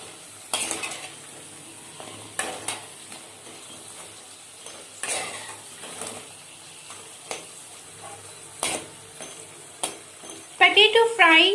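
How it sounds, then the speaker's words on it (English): Potato wedges fry in a pan with a soft steady sizzle while a utensil scrapes and clinks against the metal in irregular stirring strokes, close up, ending with a brighter burst of sizzling. "When leave the potatoes in the frying pan, continuously stir it."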